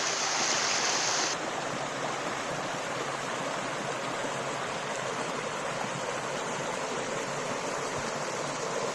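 Steady, loud rushing of a river waterfall pouring over rocks in Scotland, a continuous broadband roar that holds constant throughout with a slight shift in tone early on, no voices.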